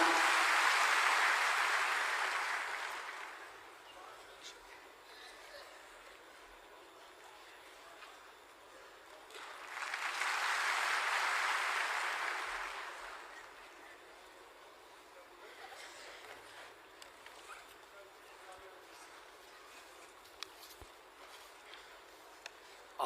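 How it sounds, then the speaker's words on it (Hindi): Audience applause welcoming a guest at a Bihar government event for Vikas Mitras, two separate bursts of clapping a few seconds each, with quieter room sound in between. "तालियों से स्वागत करें माननीय।"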